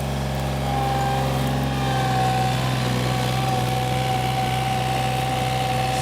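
A 2003 John Deere 3235B fairway mower with a Yanmar 3TNE84 diesel engine, in two-wheel drive with its tires spinning, runs at a steady, close drone with constant mechanical hum and vibration, no voices.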